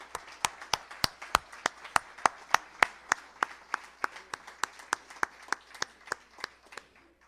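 A church congregation clapping for the Lord in a steady rhythm, about three sharp claps per second in unison, clear and fairly close, fading slightly near the end with no talking.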